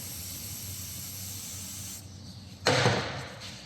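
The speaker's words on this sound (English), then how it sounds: "Flood it with a bit of penetrating oil." Short hissing burst of penetrating oil sprayed from an aerosol can onto a Mercedes ML320 Airmatic suspension part, a sharp close spray that fades quickly after a quiet steady background hiss.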